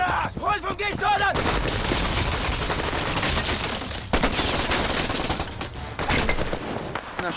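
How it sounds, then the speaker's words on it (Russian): Rapid gunfire and booming artillery crackle in a war film scene, dense bursts and thuds layered over a busy battle soundscape, with voices shouting faintly within it. "Наши стреляют."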